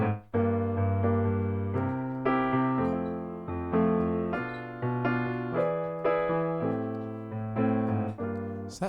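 Keyboard chords in root position, each new chord jumping to a different spot on the keys, struck one after another in a steady sustained progression that rings out clearly with no talking.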